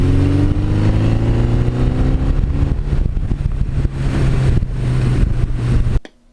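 A 40-year-old Suzuki GS1100E motorcycle ridden down a mountain road: a loud, steady engine roar with shifting pitch that holds throughout, then cuts off abruptly at the end.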